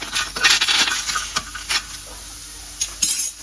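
Tomato, onion and garlic in a pan with a little oil, stirred with a utensil that clinks and scrapes in irregular bursts over a faint frying sizzle, close by with no talking.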